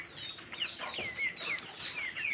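Tiger breed chicks on a farm peeping and chirping in thin, high repeated calls, faint and close, with a few soft clucks between them.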